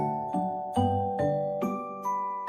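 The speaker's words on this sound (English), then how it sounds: "I am ringing bell." A bell rings several times in a steady rhythm, each bright, resonant strike followed by a fading ring, close and clear with no talking.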